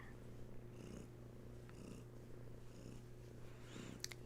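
Close, deep cat purring rolls on steadily in rhythmic breaths, soft and continuous, with no talking.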